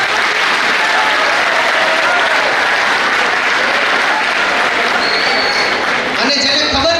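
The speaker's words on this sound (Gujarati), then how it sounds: "તાળી પાડો એના માટે." An audience at a live talk claps in dense, continuous applause that fills the whole stretch and eases slightly near the end, with a few crowd voices mixed in.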